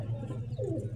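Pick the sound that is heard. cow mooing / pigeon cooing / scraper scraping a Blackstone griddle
pigeon cooing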